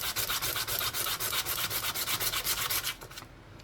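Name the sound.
sanding a coin ring with very fine sandpaper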